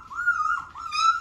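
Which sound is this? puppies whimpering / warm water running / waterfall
puppies whimpering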